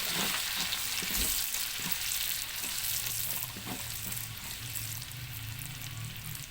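Sliced onion frying in oil in a pan, a continuous crackling sizzle with intermittent stirring scrapes and knocks, fairly quiet and steady, no talking.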